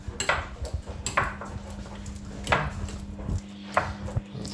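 Half an avocado is mashed with a fork in a bowl, a series of irregular clinks and scrapes of metal against the dish with short pauses between strokes, fairly close and with no talk.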